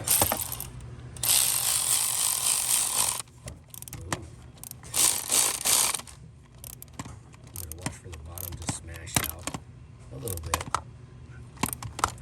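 Milwaukee power tool with a 12 socket spinning while working on a 6.0 Powerstroke diesel fuel injector job: loud bursts of whirring and ratcheting, stopping and restarting, close up with some clanks between.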